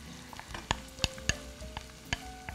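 Minced meat frying in a pan with garlic and onion, a low sizzle beneath several sharp utensil taps and scrapes against the pan, scattered and close.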